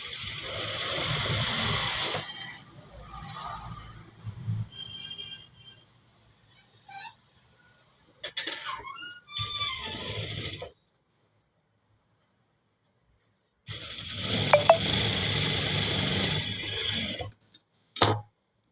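Sewing machine double-stitching the shoulder seam of a school uniform, several bursts of rapid rhythmic whirring separated by pauses, close and fairly loud, with small handling noises in between.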